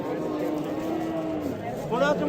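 A cow moos loudly and close at a busy livestock bazaar in Shahrixon, a drawn-out lowing call that rises near the end, with market chatter and voices underneath.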